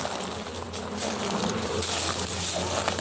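A swarm of bees buzzing around a beehive, a dense continuous drone of many wings, close and loud with rising and falling intensity, no talking.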